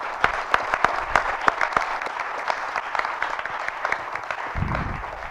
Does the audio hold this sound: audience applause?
yes